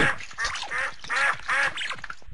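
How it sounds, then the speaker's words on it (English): A duck in a feeding video game quacks loudly and close, four raspy nasal quacks in a steady rhythm, each answered by shorter chattering quacks, with nothing else around them. "Webbed-foot duck."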